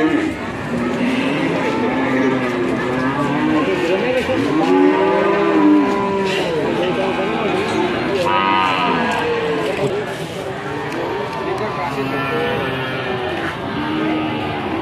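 Belgian Blue cattle lowing repeatedly at a busy cattle market, several moos rising over a constant crowd murmur and people talking nearby.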